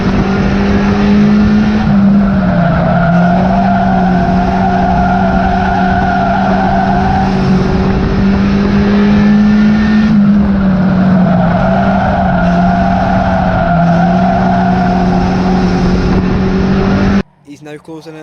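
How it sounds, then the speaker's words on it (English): A Ford Fiesta race car is pushed at full effort at Cowdenbeath Racewall, its engine roaring loud and near in long sustained pulls that waver with throttle and corners, with tyre scrub mixed in, until the sound breaks off suddenly at the close. "Dad's pushing that little Fiesta to its limit"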